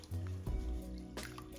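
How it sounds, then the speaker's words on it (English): Plenty of water is poured into a bowl of Japanese rice for rinsing: a short, quiet gurgling fill with splashy bursts, heard alone. "Add plenty of water to the bowl"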